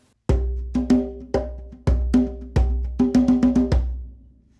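A hand drum plays a simple flowing rhythm, resonant tonal strikes in a loose repeating pattern with a quick flurry of hits near the end, close and alone with no talk.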